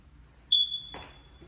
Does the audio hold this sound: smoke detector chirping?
yes